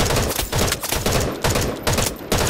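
Rapid bursts of automatic gunfire from the shooter video game Wild Assault crack loud and close in dense back-to-back volleys with brief gaps between strings of shots and no talking.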